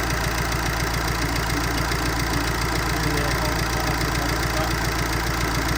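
Volkswagen Amarok pickup running on a newly fitted engine: a steady, loud, close mechanical drone with an even rhythmic hum, unbroken throughout.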